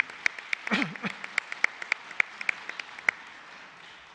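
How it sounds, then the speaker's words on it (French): Sparse, scattered clapping in a chamber for a retiring secretary general at a francophone civil-society session, single claps spaced irregularly over a quiet room, with a brief murmur early on. "on peut l'applaudir pour tous les services rendus"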